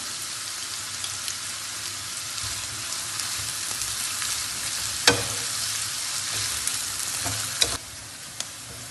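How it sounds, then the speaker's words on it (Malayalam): Sliced onions with a pinch of salt sizzle steadily in a pan for a Kerala-style liver fry, a constant close crackle broken by a few scraping stirs of the spoon. "ഈ സവാളയൊക്കെ നന്നായിട്ടൊന്ന് മുരിഞ്ഞ് വരട്ടെ. നമുക്കൊന്ന് ഇളക്കി കൊടുക്കാം."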